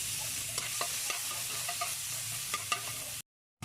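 Garlic, tomato and onion sauté in a hot pan, a steady close sizzle broken by light taps and scrapes of stirring, then a brief cut to silence near the end.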